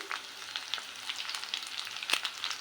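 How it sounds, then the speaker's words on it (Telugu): Ingredients and curry leaves fry in a pan, giving a steady, moderately quiet sizzle with a faint stirring sound close by and no speech. "ఇలా ఫ్రై చేసుకోవాలి వీటిని కరివేపాకు కూడా వేసుకుందాం"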